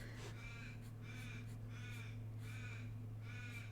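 About five harsh caws from crows, evenly spaced and somewhat distant, over a constant low background hum.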